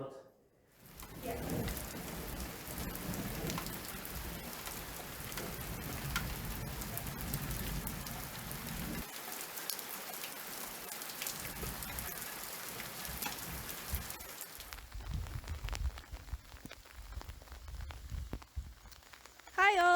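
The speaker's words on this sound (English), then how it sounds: "it's raining as you can see" Steady rain falling outdoors on a farm, a constant hiss of drops on surfaces that continues throughout, with a brief lull midway and faint talk at times.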